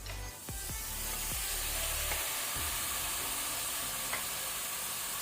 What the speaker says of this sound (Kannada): ಇದನ್ನು ಸಹ ನಾವು ಈಗ ಮೀಡಿಯಂ ಟು ಹೈ ಫ್ಲೇಮಲ್ಲಿ ಒಳ್ಳೆ ರೀತಿ ಫ್ರೈ ಮಾಡ್ಕೊಳ್ಳುವ